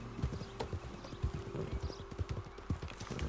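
Horse hooves in the Red Dead Redemption 2 video game clip-clop in a quick, even rhythm close by, with a steady low rumble underneath.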